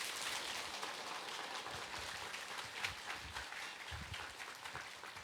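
A church congregation gives warm, sustained applause to welcome the pastor to the pulpit: dense, crackling clapping from many hands that fills the room evenly for several seconds, with no voices over it.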